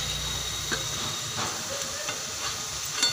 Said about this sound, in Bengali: সয়াবিনটা তেলে দিয়ে দিলাম